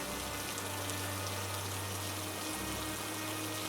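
Rain falls steadily as an effect in an animated Hindi folk story about a woodcutter, a constant dense hiss of drops with a low hum beneath and no talking.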